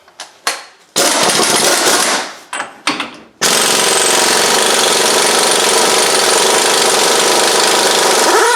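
Power tool working loose the front axle nut at the wheel hub of a 2005 Chevrolet Suburban: a few short loud rattling bursts, then a long continuous hammering roar, very close and loud with no talk.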